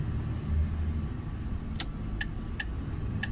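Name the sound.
truck accelerating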